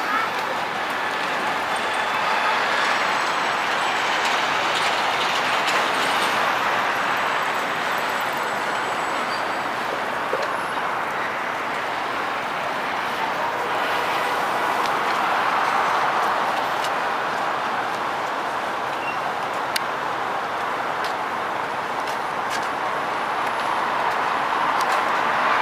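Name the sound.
subway train riding, inside the carriage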